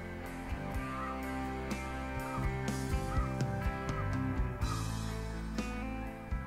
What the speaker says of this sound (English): the sky began to fill with giant flocks of snow geese looking for a field to land in